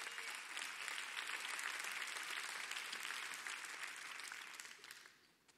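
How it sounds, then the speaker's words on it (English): Church congregation clapping at an evening service, a dense, sustained round of applause that holds steady and then tapers off toward the end. "go ahead and clap for the Lord tonight,"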